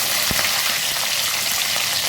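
Whole spices and lentils sizzle in hot oil as fenugreek, cumin, mustard seeds, dal and black peppercorns fry for a tempering for sweet potato pulusu. A steady close crackle runs throughout with a few sharp pops and no talk.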